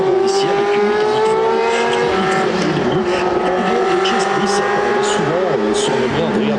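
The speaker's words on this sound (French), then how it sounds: "Puis on a une Dallara F189 également qui est en piste, ex-voiture de la BMS Scuderia Italia." A 1989 Dallara F189 historic Formula 1 car racing at Spa-Francorchamps: a loud, high-revving engine whines and shifts pitch as it runs on track, with a commentator talking over it throughout.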